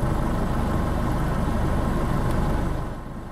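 A Troller off-road vehicle's engine revs hard while climbing a step, a loud, close, rumbling drone that holds steady and then eases off near the end, with no talk over it.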